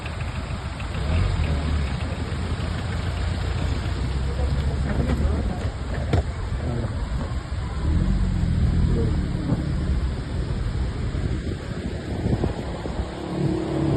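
Large Jaskool waterfall near Chakothi sector by the Line of Control in Azad Kashmir, a steady broadband roar of falling water filling the whole stretch, loud and continuous with no break, with faint voices now and then.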